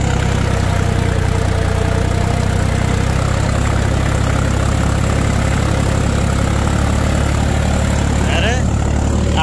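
A new Swaraj tractor engine runs at around 1600 RPM with the revs sagging slightly. It gives a loud, continuous low diesel thrum with a steady vibration and a brief higher sound near the end.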